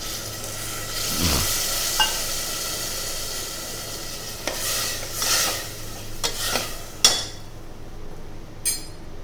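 Water poured into a sizzling pan of brinjal, potato and pea sabzi in a cooker, a hissing rush of steam over steady frying, followed by spoon clinks and stirring scrapes against the metal, close by with no talk.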